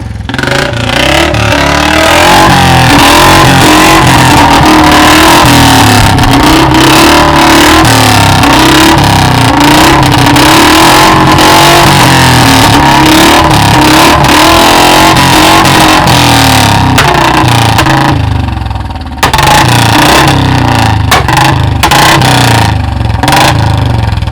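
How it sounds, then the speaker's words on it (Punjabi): A loud modified Royal Enfield Bullet motorcycle engine revs and roars continuously, close by, with sharp popping cracks from the exhaust backfiring scattered through it. "ਸਰ ਇਹ ਜਿਹੜੇ ਪਟਾਕੇ ਮਾਰ ਰਿਹਾ ਹੈ ਬੁਲਟ"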